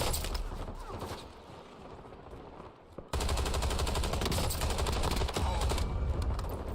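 Rapid automatic gunfire from a battle rifle in the Warzone video game, dense continuous bursts with a brief lull near the middle before resuming loudly.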